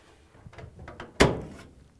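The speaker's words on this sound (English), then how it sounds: "and we can close the door" A Whirlpool, KitchenAid or Maytag appliance door swings shut after a door switch replacement, giving one sharp close thunk that rings down briefly after a few softer handling clicks, with no talk.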